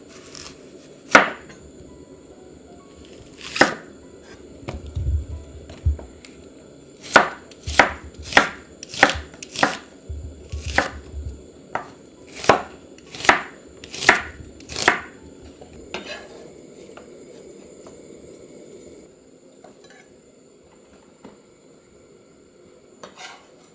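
An onion being chopped with a knife on a board, a run of about a dozen sharp, close knocks in an uneven rhythm, quickening in the middle before stopping, with a low background hum and no talking.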